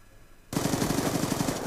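Rapid automatic gunfire from a Call of Duty Black Ops online league match, a sudden loud burst of about a dozen quick evenly spaced shots that begins abruptly and runs without pause.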